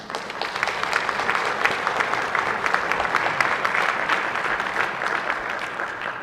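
Steady, dense applause fills a Senate chamber, many hands clapping continuously at an even level for several seconds with no break.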